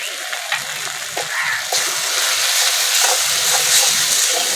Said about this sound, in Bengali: মশলাটা ভালো করে ভেজে নিতে ততক্ষণ না তেল ছেড়ে আসে